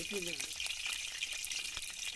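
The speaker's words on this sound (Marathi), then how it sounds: "हे दुहेल दाणे आहेत ना ते याच्यामध्ये तळून घ्यायला लागतील आपल्याला" Lima beans sizzle and crackle in hot oil, a bright steady frying hiss, with a brief faint voice near the start.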